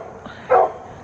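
A dog gives a single short bark close by, loud against a quiet outdoor background while someone walks.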